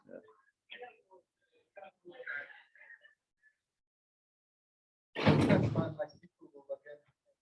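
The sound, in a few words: door being closed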